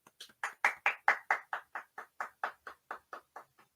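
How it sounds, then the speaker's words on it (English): A single pair of hands claps about fifteen times in a steady, evenly spaced rhythm, close and fairly quiet, with no voices alongside. "Applause, everyone, please."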